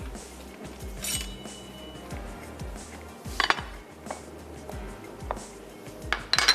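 A knife chops tomato and onion on a board in a kitchen, giving a run of quick close taps and thuds with occasional sharper clinks of utensils.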